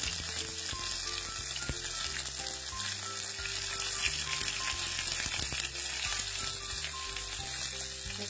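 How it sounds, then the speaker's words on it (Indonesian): Tongkol fish frying in hot oil gives a steady, dense sizzle and crackle that continues evenly throughout, close and alone. "Tongkol keranjang, digoreng ya, 4 tongkol keranjang."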